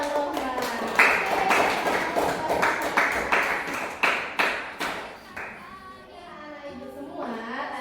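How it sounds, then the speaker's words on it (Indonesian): Classroom group claps in rhythm for a student presenter, a run of crisp unified claps at a steady beat that slows and fades, with a voice briefly audible. "mari kita beri tepuk tangan untuk Bang Rohman"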